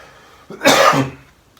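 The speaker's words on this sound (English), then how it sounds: "there's a cough on cue" One harsh, close cough with a throaty rasp lasts about half a second, then fades into quiet.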